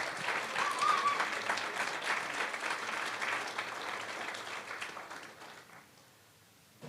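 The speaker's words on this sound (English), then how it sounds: "Let's get one more round of applause for all of our finalists." Audience at a university speech showcase applauding the finalists, strong dense clapping that holds steady and then thins out and fades to near silence at the end.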